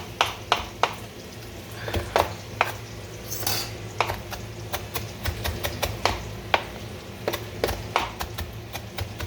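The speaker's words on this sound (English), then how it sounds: "roll my knife and shave them really nice and thin" A kitchen knife chops herb stems on a board with a run of sharp, irregular taps, some quick and some spaced, heard up close over a low background hum.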